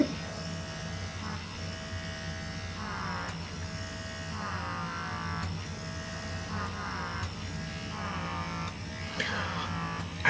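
A Silk'N Revit at-home microdermabrasion device hums with a steady motor drone, its suction pitch shifting in repeated strokes as it is pulled across skin, close and moderately loud.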